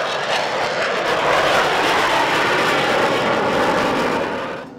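An airplane passes overhead with a loud, broad engine roar that holds steady for several seconds before starting to fade away.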